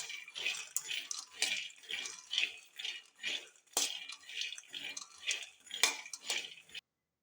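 Peanuts dry-roasting in a pan for peanut chutney rattle and clatter as they are stirred and tossed, a run of sharp, uneven scraping bursts close up, before cutting to silence at the end.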